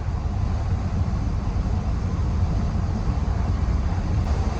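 Inside a truck cruising at about 60 mph, a loud, constant low roar of road and wind noise fills the cab, steady and unbroken with no talking.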